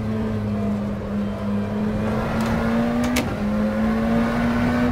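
A McLaren Senna GTR race car engine in the rFactor 2 racing game on the Nürburgring holds a steady, droning tone that climbs slowly through the gears, with a brief shift blip partway through and no talking over it.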